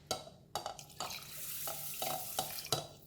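Oil skimmed from the top of chicken stock being poured into rice for chicken rice, a close wet splashing and gurgling with several soft knocks of a utensil against the pot.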